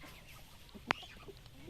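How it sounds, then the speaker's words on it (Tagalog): A rooster near a vegetable farm with a snake about, giving a soft clucking with one sharp, brief squawk mid-way over a quiet outdoor background. "Ayan yung hari ng manok mga idol."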